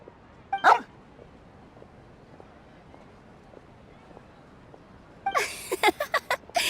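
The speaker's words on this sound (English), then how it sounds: "I believe the dog over there has been staring at us for quite a while." Swoof, a dog in the video game Genshin Impact, gives a short bark near the start, then after a quiet stretch a quick series of louder yips and barks close by.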